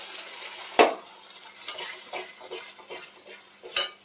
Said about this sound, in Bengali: পেঁয়াজ ভাজা ভাজা হয়ে গেছে, এবার এই মশলাটা দিয়ে দিচ্ছি।